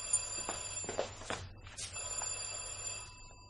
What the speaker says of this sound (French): Le téléphone à cette heure-ci, c'est probablement pour moi.